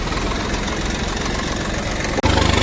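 A tractor engine idles with a steady low, throbbing rumble that runs throughout, briefly cutting out near the end before resuming louder.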